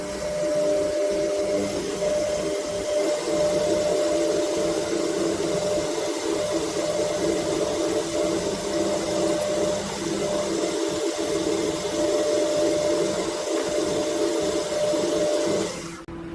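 An engine part for a Webster engine is polished with 1500 grit abrasive, giving a steady, unbroken motorized whir with a faint gritty hiss. The sound holds at an even level throughout, with no voices.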